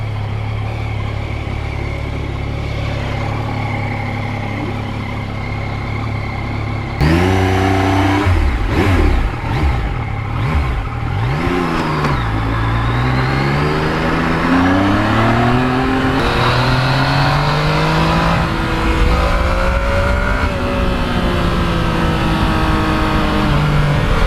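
A 2020 Yamaha MT-09 motorcycle engine idles steadily, then revs loudly in repeated rising and falling bursts, close and unaccompanied by talk.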